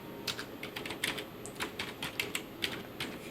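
Quick, light clicking of computer keyboard keys while entering a ledger name in Tally Prime accounting software, an irregular run of close, soft taps with no voices.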